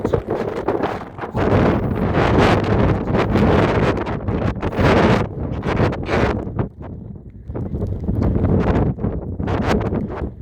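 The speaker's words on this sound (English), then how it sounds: "It's so fucking windy, it's fucking raining" Gusty wind buffets the microphone in loud rumbling bursts amid rain on the Braid Hills, with a rough, rushing outdoor noise that rises and falls and no speech.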